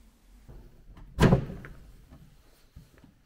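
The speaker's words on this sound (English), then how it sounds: "Very stiff doors here." A stiff wooden door of a village church thuds open once, a single heavy clunk near the start followed by quiet room tone with faint creaks.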